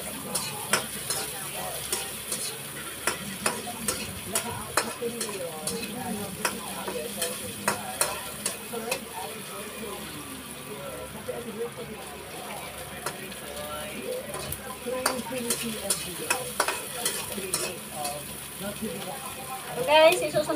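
Garlic and ginger sautéing in a little oil, a steady quiet sizzle with repeated close spatula scrapes and taps in the pan, under someone talking casually.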